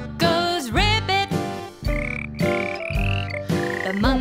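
Frog ribbits croak several times in rhythm over a cheerful children's nursery-rhyme song, prominent and close alongside the backing music.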